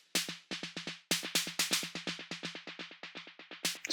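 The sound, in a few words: snare with automated delay sends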